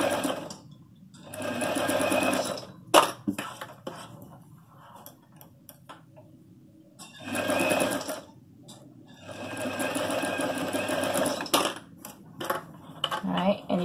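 A domestic sewing machine stitches a men's shirt seam around a curve in two long, steady runs of rapid needle chatter, separated by short pauses with soft clicks and handling noises.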